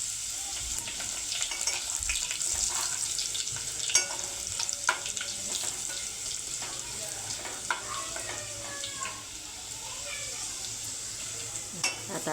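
A bay leaf sizzles in hot oil while a spicy Maharashtrian amti is cooked, a steady close frying hiss with scattered pops and crackles and a few light clinks of a spoon.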